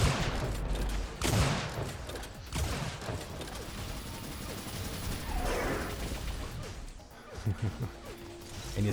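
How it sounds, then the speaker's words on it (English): Cannon fire and weapon blasts in an Unreal Tournament match, dense mechanical bangs and crashes layered continuously over busy game noise. "And you see that cannon going off"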